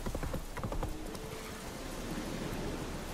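A horse gallops in The Witcher 3: Wild Hunt on PS5, its hooves drumming in a steady fast clip-clop rhythm, loud and close, over a dense layer of game ambience.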